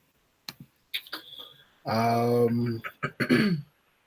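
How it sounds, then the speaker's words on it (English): A person clears their throat with a few sharp rasps and a longer voiced rumble, close up, with brief clicks and breaths between. "Clear my throat right on cue."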